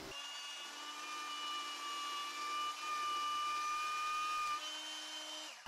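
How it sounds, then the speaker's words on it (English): A homemade magnetic base drill press bores into aluminum with a steady high motor whine, dipping in pitch under load for a few seconds and rising again as the cut eases. "Okay, well it held drilling aluminum."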